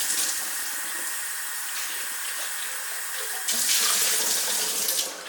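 Running tap water pours steadily over Vitamix blender parts being rinsed in a sink during almond milk making, a continuous hiss that grows louder and fuller near the end as the flow strikes the parts.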